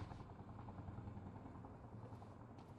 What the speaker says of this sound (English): Better get inside before the chopper spots me.